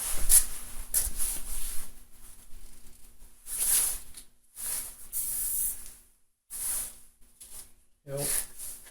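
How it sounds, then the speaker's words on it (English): Short hissing bursts from an aerosol can of penetrating lubricant, sprayed in several quick pulses with brief pauses between them, close by, onto a stuck part of a go-kart engine. "spray a little blaster in there"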